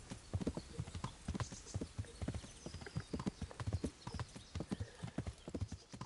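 Horse hooves clip-clop steadily in Kingdom Come: Deliverance, a brisk, close rhythmic patter of hoofbeats on the ground that runs through the whole stretch with no talk over it.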